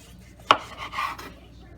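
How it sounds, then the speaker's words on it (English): A knife chopping tomato on a cutting board gives one sharp, close thunk, followed by a softer scraping rub, with quiet background between. "Cut your onion, your tomato up like this."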